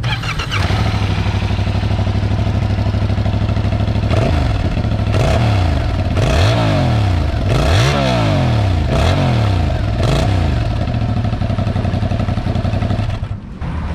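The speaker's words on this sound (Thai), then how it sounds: "รถคันนี้ใช้เครื่องยนต์ CP2 เดี๋ยวเรามาฟังกันครับว่าเครื่องยนต์ CP2 เสียงจะเป็นยังไง" Yamaha MT-07 (2021) with its CP2 parallel-twin engine runs at a loud, steady idle, then gets blipped through a series of about six sharp revs that rise and fall in quick succession before settling back.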